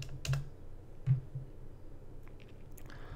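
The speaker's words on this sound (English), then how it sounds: "How about we type in seniors?" Typing on a computer keyboard: a few scattered, quiet key clicks, close but faint, with no talking.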